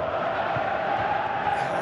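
Steady roar of a football stadium crowd in a Portugal versus Uruguay video game match, a continuous distant wash of massed voices with no clear peaks.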